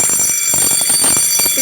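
An FDAS fire detection panel alarm sounds loudly on a building floor, a rapid repeating electronic tone pulsing in quick bursts under a steady high whine.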